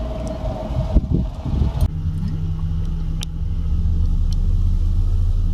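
Inside a moving taxi in Miyazaki, a low steady engine rumble and road noise fill the cabin, swelling slightly as it picks up speed.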